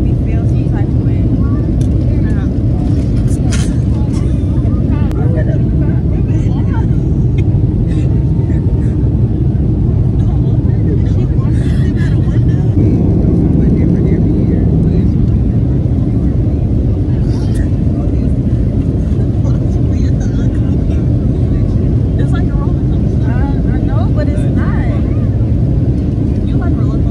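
Steady, loud roar of an airplane cabin during takeoff, a dense low engine rumble filling the whole stretch with faint talk beneath it.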